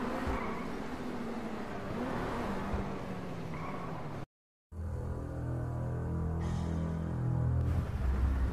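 A car in GTA V video game traffic accelerates with a steady, droning engine hum that cuts out briefly midway, then returns with a fuller, rising engine note.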